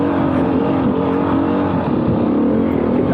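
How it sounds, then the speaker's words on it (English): A 2021 Beta 500 RRS motorcycle engine revving steadily and loudly up close, a continuous throaty drone with slight pitch shifts throughout. "That low end grunt is what this bike loves."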